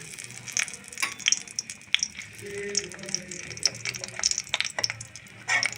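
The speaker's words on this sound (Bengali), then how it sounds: "তেল গরম হয়ে গিয়েছে, এখন দিয়ে দেবো দুটো শুকনো লঙ্কা আর দিয়ে দেবো দুটো তেজপাতা" Oil crackles and sizzles steadily in a hot pan as two dried red chillies and two bay leaves fry, with sharp pops and spits scattered throughout, close and moderately loud.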